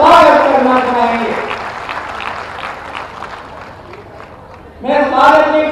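An audience gives a welcoming round of applause for Shivraj Singh Chouhan at a public development event in Sagar, Madhya Pradesh. Loud clapping and crowd noise carry through most of the clip, with a voice speaking over the start and the end.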